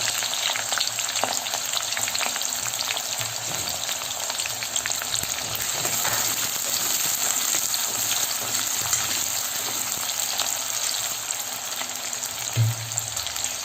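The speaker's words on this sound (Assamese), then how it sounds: "এইখিনি ভাজি ল'ম গল্ডেন ব্ৰাউন হোৱালৈকে।" Sliced onions and green chilies sizzle in hot oil while frying golden brown for an Assamese dry fish dish, a close, constant crackling fry with occasional stirring scrapes and no talking.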